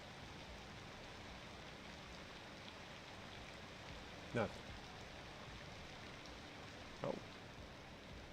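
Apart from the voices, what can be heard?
rain pouring down in the video game Cities Skylines 2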